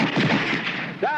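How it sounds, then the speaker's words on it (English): Gunfire in a scene from the action TV series The A-Team: loud, dense bursts of shots and blasts fill the clip, with a rising whistle-like tone near the end and voices mixed in. "we apologize for interrupting your party with gunfire"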